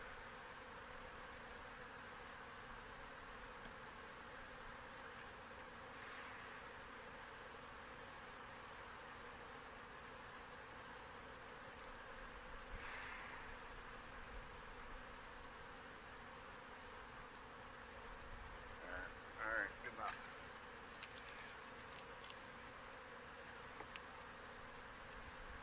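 Honey bees buzz around the hive comb during a swarm and honey check, a faint, steady drone that runs through the whole stretch, with a few closer buzzes and light rustles near the end.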